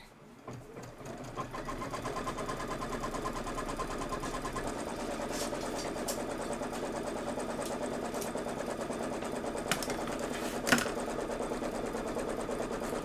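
A sewing machine stitches background fabric for a quilted holiday project, running steadily and close at hand with a continuous mechanical whir, briefly starting and stopping with a few small clicks.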